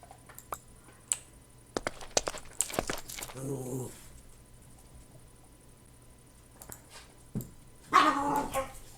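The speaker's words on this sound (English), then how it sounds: "my dogs are going to get obnoxious again" Dogs indoors give a few scattered sharp barks and a whimper amid footsteps and light knocks, with a louder burst of barking near the end, all fairly close.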